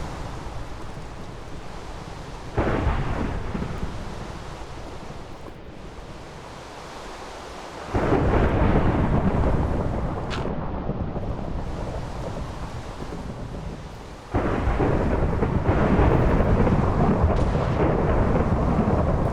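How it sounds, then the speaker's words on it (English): Thunderstorm in a Minecraft-style block video game, with blustery wind and rain under several loud, sudden thunder cracks that each leave a long rumbling roar, no voices present. "And we have a thunderstorm."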